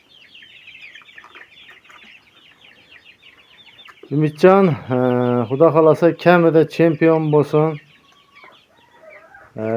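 A young rooster let out among chicks gives a run of loud, close, harmonic calls in the middle, with someone talking softly before them.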